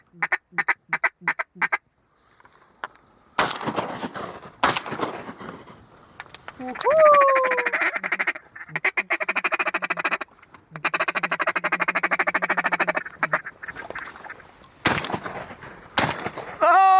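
Many wild ducks quack loudly in fast, overlapping bursts on a duck hunt in New Zealand. Sharp, loud shotgun blasts punctuate the quacking, and someone speaks briefly over the noise.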